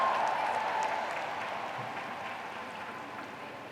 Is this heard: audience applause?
yes